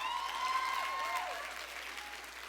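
Applause from an audience at a general manager's leadership training event in the Philippines, steady and moderately loud throughout, with several high whistle-like tones sliding over the clapping.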